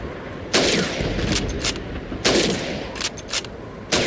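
Rifle shots on a shooting range in Call of Duty 2, aimed at bottles and plates: a rapid series of sharp gunshots, several close together, repeated bursts through the whole stretch, loud and near, no talking.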